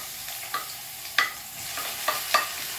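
Onion and tomato sauté in hot oil with a soft steady sizzle, punctuated by several sharp scraping clicks of a utensil stirring the pan.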